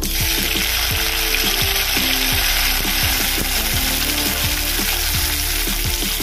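Oil sizzles loudly and steadily in a hot wok (kadai), with a constant hiss and faint clicking scrapes mixed in underneath.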